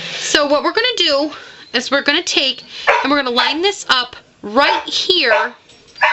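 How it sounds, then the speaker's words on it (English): A pet dog barks and yips repeatedly indoors, sharp high bursts in clusters that overlap a person talking steadily nearby. "Sorry about my dog."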